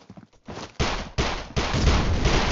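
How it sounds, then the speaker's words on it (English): Gunfire in the mobile shooter Critical Ops, close loud bursts that start and stop abruptly in a short rapid exchange. "Why are you shooting?"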